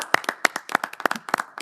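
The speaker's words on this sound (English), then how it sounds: "If we can give them a round of applause." Clapping from a small audience at a school board of education meeting, a handful of hands striking in quick, irregular bursts, fairly close and brief, with no talk over it.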